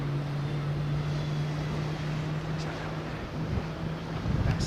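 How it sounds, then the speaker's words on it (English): An aircraft engine at Heathrow spins up with a steady low hum under broad roaring wind and airport noise, heard from a distance and fairly faint, with no talk. "You can hear an engine starting."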